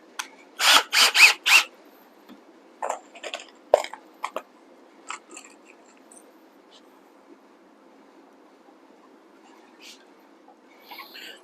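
A cordless drill whirs in a few short bursts driving 1.5-inch pocket hole screws into a farmhouse dining table, then quieter intermittent clicks and handling noise follow in an otherwise quiet room.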